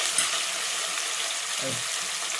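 Ginger-garlic paste and turmeric sizzle steadily in a hot pan, a continuous close crackle with a faint stir of the spoon partway through.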